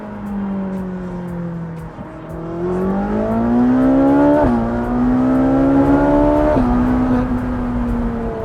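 A Ferrari engine revs loudly and continuously while the car drives, the pitch climbing and dropping through several gear changes with sharp shifts, and no talking over it.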